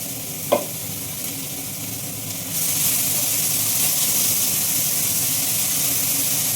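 Thinly sliced onions hit a hot pan for a cucumber curry: a sharp drop-in crackle, then the sizzle swells into a loud, steady hiss that carries on alone.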